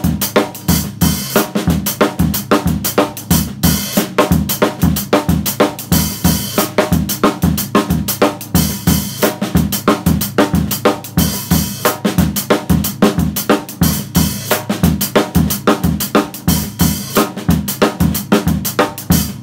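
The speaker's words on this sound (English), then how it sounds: "I'm going to continue to play that bass drum clave part, 3/2 son clave on the bass drum," Drum set grooves steadily through a 3-2 son clave on the bass drum, syncopated hi-hat and snare accents, a dense, loud Afro-Caribbean pattern played alone without talk.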